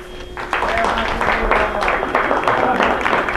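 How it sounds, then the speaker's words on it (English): A physics class applauding, a short burst of scattered clapping from a modest group of students in a classroom, starting after a brief quiet moment and mixed with a voice talking. "A little applause for the..."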